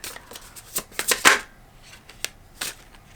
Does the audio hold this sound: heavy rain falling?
no